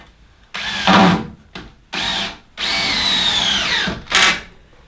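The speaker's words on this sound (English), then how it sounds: "now I'm just going to anchor it with a screw" A power drill drives a screw into a 2x6 rafter during a bedroom makeover, running in four close, loud bursts, with the motor note dropping as the screw seats.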